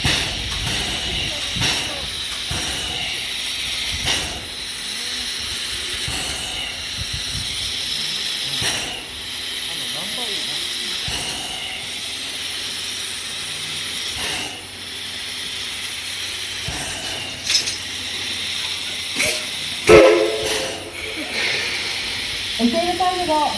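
Steam locomotive C11 207 hisses in repeated loud bursts of escaping steam at night, with a whistle near the end and voices over a station loudspeaker.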